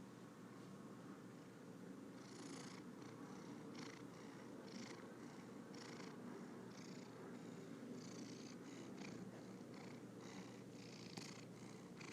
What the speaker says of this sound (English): You have just been witness to another cat purring session.